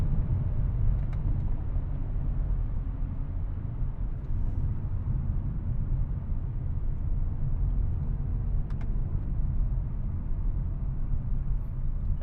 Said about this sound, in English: As you can see here, the transmission shifts very quickly. There's almost no delay with this 8-speed.